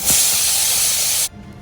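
A pressure cooker holding dal and snake gourd vents steam in a loud, steady, close hiss that cuts off abruptly, leaving a quiet room.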